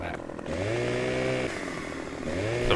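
Chainsaw cutting wood in the video game Farming Simulator 15, a loud buzzing engine drone that rises and revs up and down in strained pitch sweeps, close and continuous, with light speech beneath.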